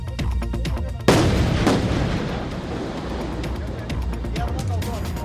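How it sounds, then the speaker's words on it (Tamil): Highway crews set off explosive charges to break apart giant boulders that fell onto the road during heavy rain, a loud sudden blast with rumbling debris after it, heard over steady background noise and outdoor commotion. "சாலையில் விழுந்த ராட்சத பாறைகளை நெடுஞ்சாலைத்துறையினர் வெடிவைத்து தகர்த்து போக்குவரத்தை சீர் செய்தனர்"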